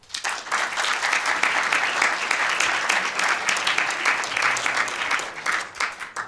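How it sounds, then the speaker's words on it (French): A comedy-show audience breaks into loud, sustained applause, many hands clapping in a thick continuous roar that swells quickly and stays strong before tapering slightly at the end. "Applaudissements s'il vous plaît."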